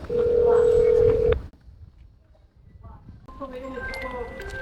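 A telephone keypad sounds a loud burst of dialing tones, then goes quiet for about two seconds before a softer run of tones returns.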